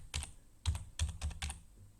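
Quick typing on a computer keyboard, close and clear: a few separate clicks, then a short brisk run of keystrokes, with no talking.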